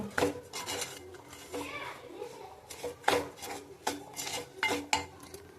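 Semolina roasting in a pan is stirred with a utensil that scrapes and clinks against the metal in irregular strokes, several sharp taps standing out, at close range.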